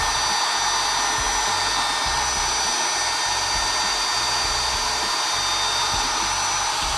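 A steady, loud electric drill whirs continuously at low speed, churning a thick mixture of melted plastic for fishing baits, with no voices.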